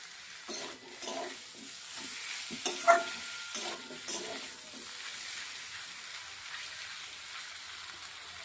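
Fish fat and air bladder fry in oil with potato, brinjal, onion and green chilli, a soft continuous sizzle broken by several sharp stirring knocks and scrapes of a spatula against the pan, close and alone without talk.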